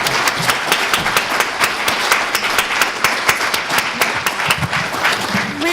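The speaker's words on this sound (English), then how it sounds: "would you guys just join me in a round of applause for the panel?" An audience applauds a panel with steady, evenly spaced claps from a modest crowd, continuous and fairly close.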